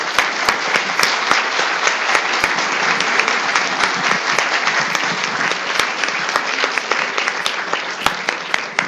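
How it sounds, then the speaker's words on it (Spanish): Steady audience applause from a lecture hall crowd at an institutional law conference, many hands clapping densely and evenly for several seconds at close range, with no talking over it. "le vamos a brindar un aplauso"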